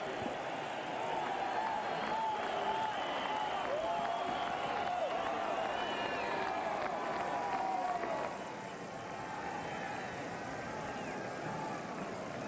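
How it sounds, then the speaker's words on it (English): A college football stadium crowd, Colorado against Iowa in 1992, cheering and applauding late in the game, a steady distant roar with a commentator speaking over it. "And this crowd is about to show its appreciation."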